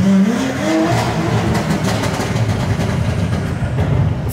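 Tuned Stage 2 Porsche Panamera engine revving close by with a warm engine, a loud rising rev at the start that settles into a steady, dense engine roar for about four seconds with no talking.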